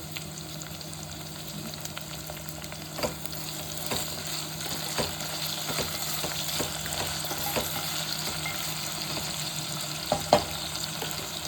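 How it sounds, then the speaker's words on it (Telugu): Onions sizzling with a pinch of salt in a pan for a bitter gourd curry: a steady, close crackling hiss with occasional sharp stirring clicks and scrapes, no voices. "ఉల్లిపాయలు కూడా కాస్త మగ్గుతాయి అన్నమాట"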